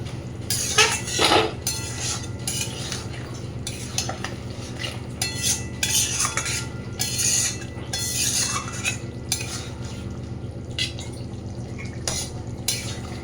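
A utensil stirs shankar fish curry, sprinkled with garam masala powder, around a pan on a low gas flame: repeated scraping strokes and light metal clinks over a faint steady sizzle, close and moderately loud, with no talking.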